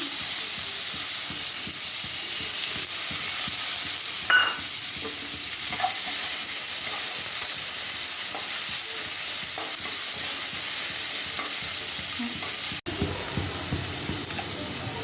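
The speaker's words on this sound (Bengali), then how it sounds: "পেঁয়াজটা ভাজা ভাজা হয়ে গেছে" Chopped onions fry in hot oil in a pan for stuffing potol dorma, a loud, steady sizzle with frequent scraping of a spatula as they are stirred, briefly cut off near the end.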